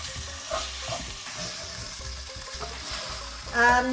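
Meat frying and being stirred in a pot for aloo gosht, a steady close sizzle with scraping stir strokes, swelling briefly louder near the end.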